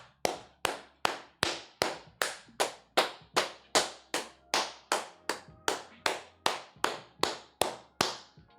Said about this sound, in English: I'm gonna clap it up, y'all.